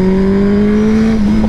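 A black Suzuki B-King 1340 cc motorcycle engine revs loud and close, holding a strong steady tone before dipping and climbing again near the end.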